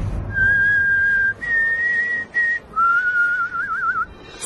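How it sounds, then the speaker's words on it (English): A cartoon character's nose whistles a patriotic national anthem tune as he breathes, a clear, high, sustained whistle in several long phrases with short breaks, wavering slightly toward the end, loud and alone without talk. "When he breathes, his nose whistles the national anthem."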